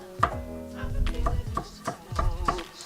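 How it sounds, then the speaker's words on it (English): A knife chops a shallot on a cutting board in a home kitchen, about eight close, crisp thuds and knocks at an irregular rhythm. "right now I'm chopping up a shallot"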